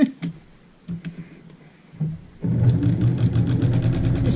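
A sewing machine stitching around an 8-inch square quilt block starts after a few quiet clicks and runs in a steady, fast mechanical whir to the end.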